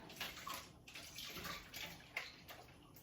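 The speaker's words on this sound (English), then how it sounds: "Draining the water." Running water drains and splashes steadily into a sink, a continuous hissing gurgle with small fluctuations, quiet and close.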